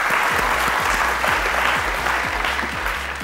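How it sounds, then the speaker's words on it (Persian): Studio audience at a Persian-language Family Feud-style game show claps in loud, steady applause, dense and continuous throughout with a rhythmic clapping pulse underneath. "تشویق کنید."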